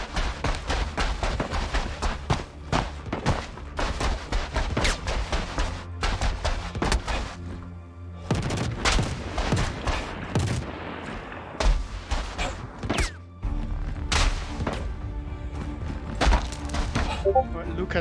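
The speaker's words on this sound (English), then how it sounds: "he came under sniper fire" Sniper and other gunfire in a Star Citizen battle on Daymar, with repeated sharp shots and thuds in irregular bursts, some close and loud, under a continuous low background.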